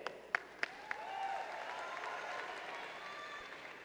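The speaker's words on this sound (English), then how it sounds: "Let's give a big warm round of applause to our next Georgia FFA Talent" Applause from a convention-hall audience at a Georgia FFA convention, a few sharp claps at first swelling into steady, moderately distant clapping that carries to the end.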